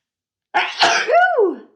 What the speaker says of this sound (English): I'm about to sneeze, so I'm going to let it.